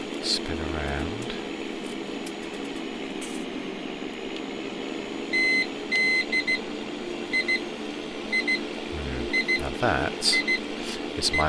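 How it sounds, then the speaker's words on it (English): Repeated electronic alarm beeps in short bursts signal a 45-minute timer running out, layered over a steady engine-like drone from a farming game, with a voice talking briefly. "is my alarm to tell me my 45-minute timer is up"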